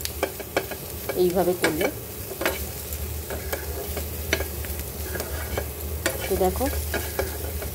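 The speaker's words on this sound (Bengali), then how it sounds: "এতে একটুখানি নেড়ে নিচ্ছি" Green chilli pickle stirred in a frying pan, a steady sizzle under repeated scraping strokes from a spoon, with a voice speaking briefly over the cooking.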